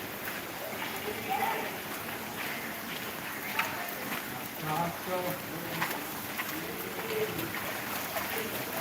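Heavy rain pouring over flooded lanes and alleys, a steady, dense hiss of falling water with faint voices in the background.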